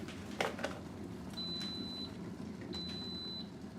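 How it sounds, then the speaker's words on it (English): Two steady electronic beeps from kitchen timers sound one after another in a home kitchen where eggs and coffee are being made, each a sustained tone lasting under a second, over a constant background hum. "I got timers going off everywhere."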